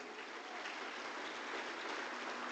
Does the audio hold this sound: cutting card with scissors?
no